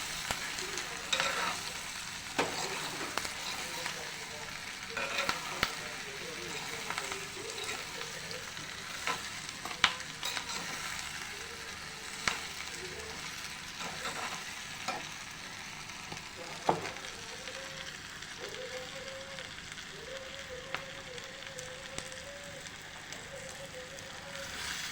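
Sorakaya pappu, a bottle gourd and lentil dish, is stirred with curry leaves in a pan, giving a steady frying sizzle with scraping stir strokes throughout; tonal background sounds sit faintly underneath and no one speaks.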